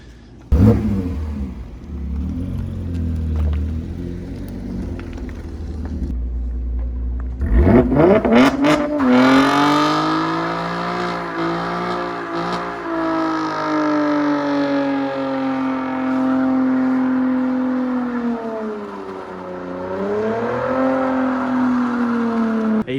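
A 2018 Chevrolet Camaro ZL1 with long tube headers, an AWE catback, no mufflers, no resonators and no cats starts with a sharp bark, then idles and revs loudly and up close, its deep exhaust rumble rising and falling.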